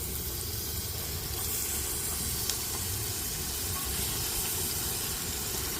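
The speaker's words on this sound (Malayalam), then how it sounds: "ഇനി നമ്മൾ നല്ല വൃത്തിക്ക് കഴുകി വെച്ച ചിക്കന്റെ പീസുകൾ നമ്മൾ ഇതിലോട്ട് ചേർത്ത് കൊടുക്കുകയാണ്" Washed chicken pieces, about three kilos, tipped into a hot pan on a gas stove for a dry red chilli curry, giving a steady close sizzle and hiss that holds evenly throughout.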